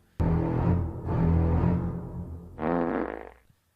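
A loud, close fart rumbles out in two long sputtering bursts, followed after a short gap by a higher, buzzing third blast that trails off.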